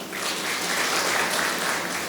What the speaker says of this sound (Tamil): அந்த பிள்ளைக்கு நல்ல ஒரு கைத்தட்டல் கொடுங்களேன்